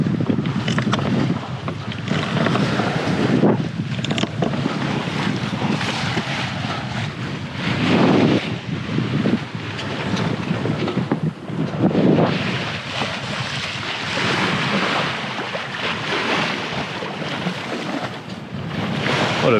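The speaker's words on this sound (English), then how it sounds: "The motor is off and we're under sail, heading towards the island of Vieques currently." A sailboat under sail with its motor off, heading toward Vieques off Puerto Rico: steady loud wind rush and buffeting over the microphone, with waves and water washing along the hull throughout, no voices.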